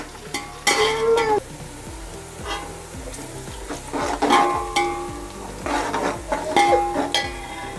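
Onions fry in a pan with cloves and cardamom as they turn golden brown, giving a close sizzle broken by bursts of stirring and scraping, light utensil clinks, and faint tonal background music.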